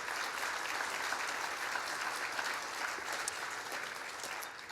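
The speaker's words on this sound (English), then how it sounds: "Let's hear a big round of applause for all of our hardworking city staff." Sustained, even applause from a large audience at a mayor's state of the city address in Richmond Hill, a dense wash of clapping that holds steady and tapers slightly at the end.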